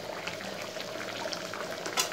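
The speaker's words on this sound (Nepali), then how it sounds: "पानीलाई घटाउनुको लागि चाहिँ मैले यहाँ आगोमा बसाइसकेँ" Pork leg simmers over a fire in water that is being reduced, giving a steady bubbling and sizzling texture at low, even loudness. A faint clink sounds near the end.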